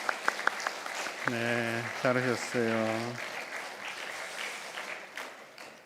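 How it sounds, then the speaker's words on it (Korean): A church congregation at a Sunday afternoon praise service breaks into applause after someone speaks, the clapping building into a steady, mid-level wash that lingers as he continues talking. "저쪽에 앉아 계신 우리 목사님하고 사모님 한번 박수로 격려하겠습니다."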